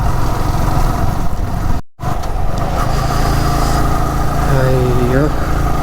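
On a misty hill road near Kodaikanal, a vehicle passes with a loud, constant engine rumble and road noise, briefly cut out once, while people talk over it.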